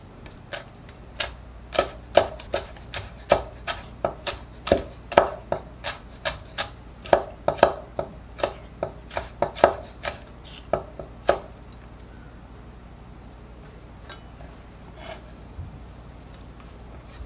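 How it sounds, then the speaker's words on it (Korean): A knife slices halved Cheongyang and red chili peppers lengthwise on a cutting board, making a steady run of about thirty crisp, close chopping knocks that stop partway through, leaving quiet room tone. "청양고추, 홍고추도 반으로 자른 후에 길쭉하게 잘라주세요."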